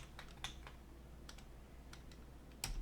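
Computer keyboard keys and mouse buttons clicking during drafting work for a tile job site, a few soft scattered clicks in a quiet room.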